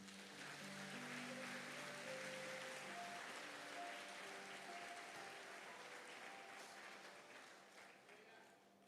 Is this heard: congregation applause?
yes